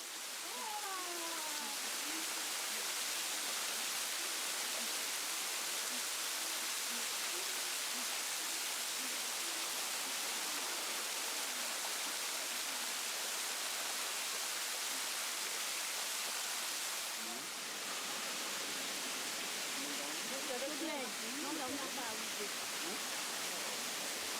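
A constant roaring rush of falling water from a waterfall on Réunion Island fills the scene during a Malagasy ancestral purification rite, broad and loud, with faint voices occasionally audible beneath it.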